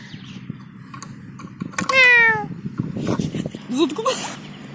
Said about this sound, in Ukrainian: Це мій кіт